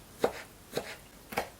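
A kitchen knife chops garlic on a cutting board in a village home kitchen, three distinct, evenly spaced close knocks with quiet pauses between, and no talking.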